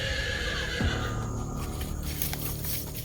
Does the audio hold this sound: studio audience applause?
no